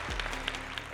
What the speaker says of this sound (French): On peut applaudir ou pas là?